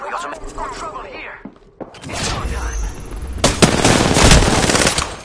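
Rapid gunfire crackles in an Apex Legends firefight, with dense automatic bursts and heavy thuds that swell louder and busier toward the end, mixed with in-game voices.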